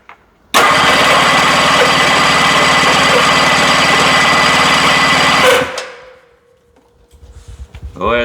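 A 1974 Johnson 440 outboard motor cranks and catches abruptly, running loud and close at a steady, rattly pitch for about five seconds before cutting out, followed by quieter mechanical rustling and clunks.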